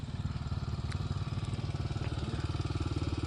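An off-road motorcycle on a practice track, its engine droning steadily with a rapid, even low-pitched pulse throughout, close and fairly loud with no voices over it.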